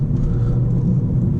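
A 2019 Mercedes CLA180 with its base engine in sport mode on a twisty road, heard from inside as a loud, steady low engine rumble with road noise and no talking.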